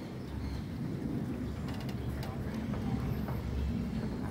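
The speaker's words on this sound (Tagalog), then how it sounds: "sumasabay pa yung ulan." Steady rain pours down with a low rumble of thunder, a continuous dense hiss with faint scattered drops throughout.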